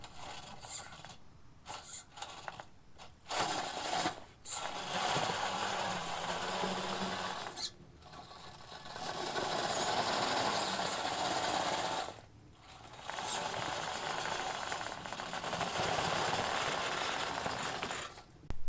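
A 1/10 scale RC crawler's small electric motor under heavy load, hauling a trailer and about 200 extra pounds: a high, strained whine that runs in several long bursts with short pauses between, close and alone.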